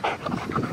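A hot dog named as a bear-like pet in an RV setting pants quickly, a short burst of breathy rhythmic huffs close to the microphone with a slight whimpering edge.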